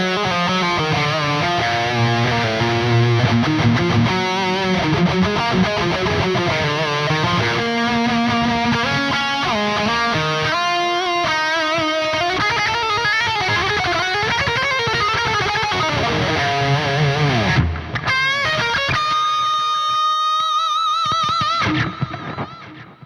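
High-gain electric guitar through a Neural DSP Soldano SLO-100 amp plugin plays loud, dense distorted riffs and sustained chords for over twenty seconds, ending on a ringing chord that cuts off abruptly.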